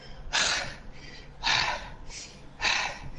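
A voice imitates a wounded dragon panting: three heavy, breathy gasps come in a slow, steady rhythm, close and fairly loud, with softer breaths between them.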